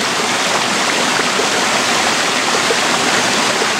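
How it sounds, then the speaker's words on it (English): Water pouring out at a hydroelectric dam, heard as a loud, continuous broadband rush like a waterfall, steady and unbroken throughout with no voices. "you can see water coming out of that area"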